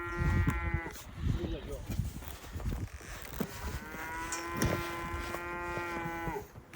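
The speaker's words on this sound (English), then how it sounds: "we heard the cows mooing" Cows moo at a remote trailhead below Santa Elena Canyon in Big Bend National Park, Texas, giving two long, drawn-out lows at a moderate distance over faint outdoor background murmur.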